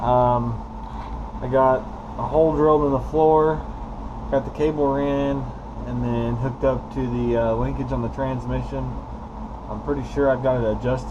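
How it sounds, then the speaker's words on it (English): A heater runs in a garage, giving a steady droning hum beneath someone talking throughout. "You'll have to excuse the noise, the heater's on."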